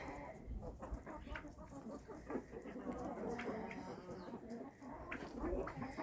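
Hens cluck softly and continuously at close range while pecking at favourite treats like potatoes mixed with bran in a farmyard, with a steady murmur of overlapping calls and no talking.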